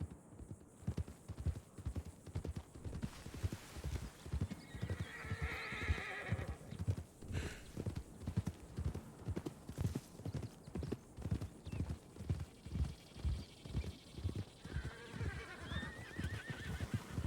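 A horse in a video game trots with steady, rhythmic clip-clopping hooves throughout, close and clear. A whinnying neigh rises over the hoofbeats partway through, and a faint second cry comes later.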